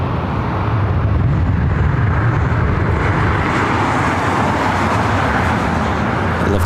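A Delta Airlines Boeing 737-800 arriving at Los Angeles International Airport, a loud, steady broadband jet roar that holds level throughout, close and continuous with no voices.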